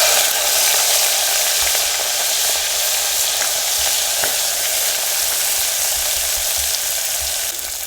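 Onions sizzle steadily as they fry in hot oil with asafoetida for a Gujarati cauliflower curry, producing a loud, continuous crackle with a few soft stirring bumps and no voices.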